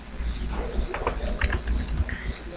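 Quick bursts of keystrokes clatter on a computer keyboard nearby, an irregular run of clicks over a low background hum.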